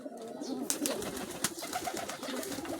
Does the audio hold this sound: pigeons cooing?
yes